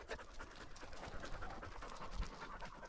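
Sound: hounds panting

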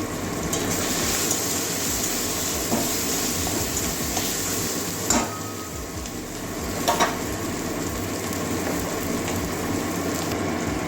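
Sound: cumin and coriander seeds frying in oil for soyabean curry

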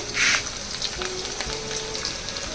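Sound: garlic and chana dal frying in hot oil

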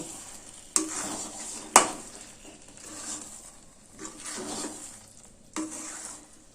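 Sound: stirring salt and sugar into potato-rice dish

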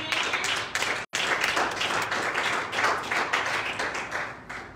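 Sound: congregation clapping hands

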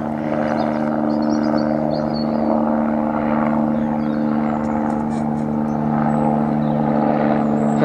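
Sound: helicopter flying overhead

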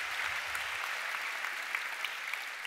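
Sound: audience applause after a talk

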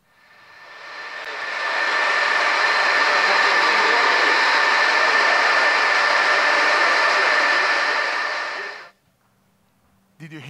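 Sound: server farm machinery humming

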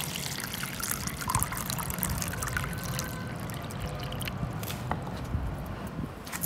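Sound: 1 liter of water poured onto soil

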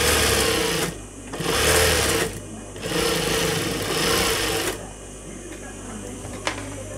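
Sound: sewing machine stitching the edge of a salwar

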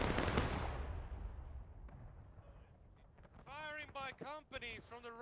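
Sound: musket volley gunfire in video game War of Rights

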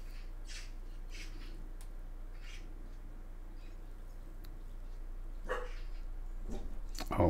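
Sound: dog barking

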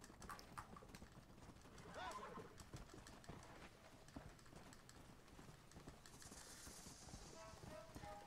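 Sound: zombie horse hooves clip-clopping in Red Dead Redemption: Undead Nightmare video game

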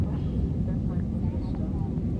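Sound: airplane cabin noise as the plane descends to land in Paris

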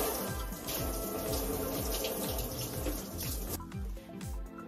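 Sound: mackerel rinsed under running tap water

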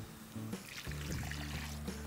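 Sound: pouring ground masala paste from the mixer into the biryani pot

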